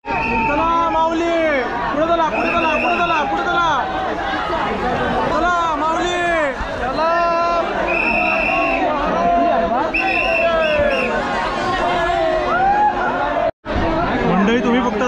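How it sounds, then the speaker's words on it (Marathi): Loud crowd chatter packed inside a train during the Pandharpur pilgrimage, many overlapping voices close and far in a continuous babble, with one voice occasionally rising above the din. "मंडळी, तुम्ही फक्त आता मागची गर्दी बघा."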